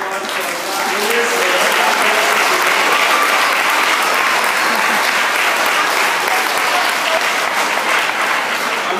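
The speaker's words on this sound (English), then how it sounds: "let's give a big round of applause for our 5 winners" Applause for the five winners of a school invention convention at a Montessori magnet school, a steady, loud wash of crowd clapping that holds without a break for the whole stretch.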